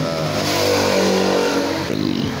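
Yamaha Force FI motorcycle engine starting and running, a steady mid-pitched engine drone held loud and close for about two seconds, with a slight change in tone near the end; no talking.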